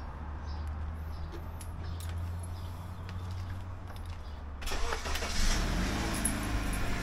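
A car engine starts and the car begins to move after a hailstorm in Calgary, a low idle rumble that swells into a rougher, louder engine burst near the end, close by with no talk.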